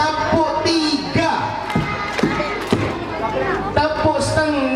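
Children at a school festival storytelling session clap in a counted pattern, several sharp group claps in rhythm amid crowd noise and an adult voice talking over them.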